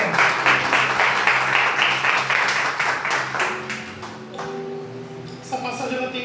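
A church congregation claps for the Lord in a Portuguese-language service, with loud, dense applause mixed with voices that gradually thins and fades as a voice carries on over musical tones.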